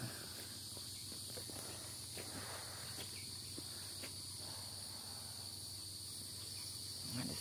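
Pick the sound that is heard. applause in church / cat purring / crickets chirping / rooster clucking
crickets chirping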